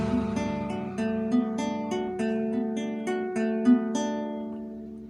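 Acoustic guitar plays a wirang drumming fingerpicking pattern, plucked notes ringing in a regular repeating rhythm with sustained overlapping tones, close and clear with no talking.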